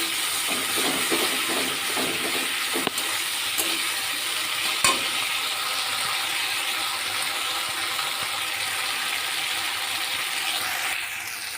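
Ginger and cumin fry in a pan with an even, close sizzle and quiet stirring scrapes, with a few sharp clicks early on and a steady hiss throughout.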